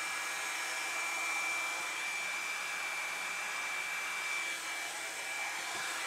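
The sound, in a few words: Hot Tools One-Step Blowout Styler hair dryer running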